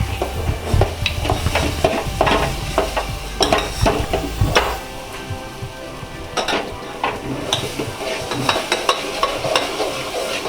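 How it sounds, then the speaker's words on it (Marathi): Ground spice paste with garam masala is stirred in a hot pan, a spoon scraping and clacking against the metal over a soft sizzle in irregular, close strokes. "व्यवस्थित हलवून घ्यायचं"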